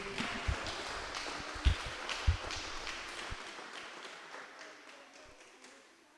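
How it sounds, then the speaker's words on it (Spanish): Church congregation applauding for the King after a worship song, a scattered, fairly faint clapping with a few louder claps early on that thins and fades out over several seconds. "Dale un fuerte aplauso al Rey."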